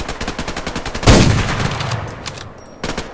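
Two sniper rifle shots ring out in the online shooter Survarium: one loud, booming blast with a long decaying tail, then a second, sharper crack near the end, with faint rapid clicking before the first.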